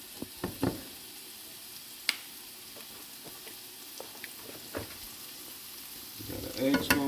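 Scrambled eggs with jalapeño fry in a pan, giving a steady soft sizzle with occasional spatula scrapes and clinks, growing louder and busier toward the end.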